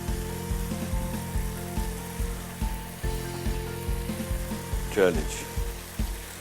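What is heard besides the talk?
seekh kababs frying in a non-stick pan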